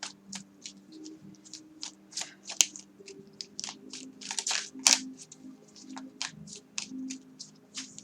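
Tarot cards shuffled and drawn by hand, a close run of crisp riffling flicks and soft slaps in an uneven rhythm, with no speech.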